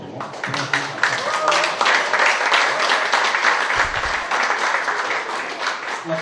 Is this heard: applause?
yes